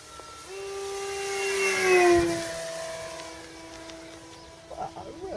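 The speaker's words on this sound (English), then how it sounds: "Plenty of power in that motor" An RC model plane's electric motor whines in flight on a spring day in Tokoroa, its pitch sliding down as the throttle eases, then fading with outdoor wind noise and faint voices nearby.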